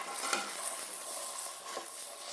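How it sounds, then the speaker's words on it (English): Ground meat sizzles and crackles steadily in hot oil for a Bolognese sauce, with occasional soft stirring scrapes, heard close and alone at a fairly low level. "And now I fry it until it's a bit crumbly, so that small individual pieces form."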